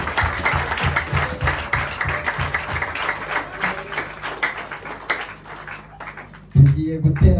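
At a worship service, a standing congregation breaks into loud, rhythmic applause that thins out toward the end, just before a voice begins speaking over it.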